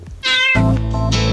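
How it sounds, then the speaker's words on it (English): A house cat lets out a loud, close meow, a short rising cry followed by a longer, fuller drawn-out call, heard alone without any talking. "my cat's going crazy."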